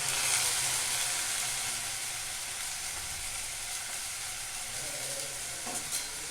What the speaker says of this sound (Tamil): இப்போ அதில் ஊற வச்ச பாசிப்பருப்பை சேர்த்துக்கலாம்.